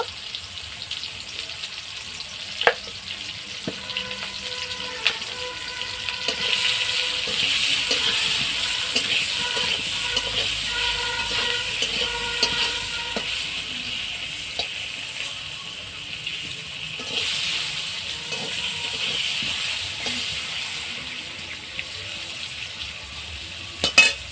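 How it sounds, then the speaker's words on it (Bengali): Potatoes frying in oil with a little salt and turmeric give a steady, moderate sizzling hiss with occasional small pops and clicks, close by and with no talking. "আলুটা প্রায় ভাজা হয়ে গেছে।"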